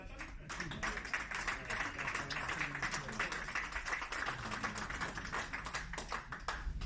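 Applause for a newly elected committee at the annual general meeting of a communal boules club, a steady patter of many hands clapping in a room, moderately loud, with voices murmuring underneath.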